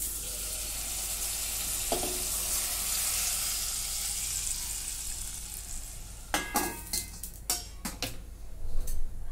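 Hot water poured into a pot of sizzling mutton: a constant frying sizzle breaks into loud, splashing hisses and bursts of spitting in the last few seconds.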